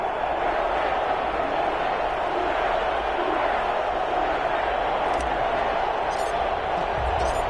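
Stadium crowd before an Atlanta Falcons versus New Orleans Saints game in an EA Sports NFL video game, a steady, loud, dense roar of many voices holding level throughout.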